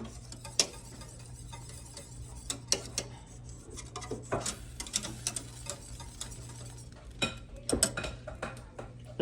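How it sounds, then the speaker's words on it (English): Spoon stirring chili powder and garlic salt into a pot on the stove, with faint scattered scrapes and clinks against the pot over a low steady hum. "We're going to stir that in."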